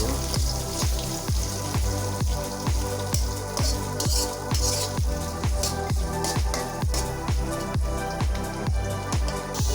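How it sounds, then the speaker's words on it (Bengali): Chopped onions fry and get stirred in a pan, a steady close sizzle broken by regular scraping strokes of the spoon, roughly two per second, with no talking. "হালকা করে নেড়ে নেব।"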